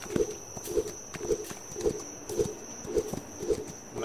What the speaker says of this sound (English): I'm gonna head across the tracks on my horse